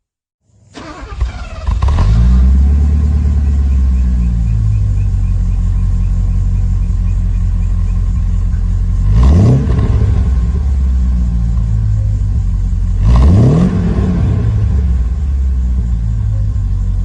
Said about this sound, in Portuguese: esse permanece o motor original com o escape que a gente vai ouvir